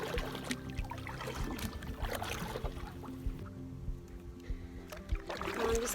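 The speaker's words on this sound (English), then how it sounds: "I'm just paddling along here" A canoe paddle dips and pulls through the water of a wilderness lake on the Obabika Loop, giving soft, close splashes and trickling drips in an irregular stroke rhythm.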